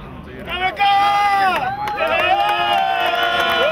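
Crowd cheers and claps at a prize-giving ceremony for the Belgian Homeless Cup, a loud sustained roar of voices and shouting with overlapping talk throughout.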